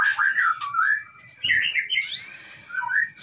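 White-rumped shama birds sing in a breeding cage, with clear, close, varied whistled phrases, fluting notes and quick chirps in short bursts separated by brief pauses.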